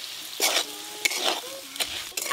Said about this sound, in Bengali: আলুর সাথে মশলা খুব ভালো করে কষে নিয়েছি।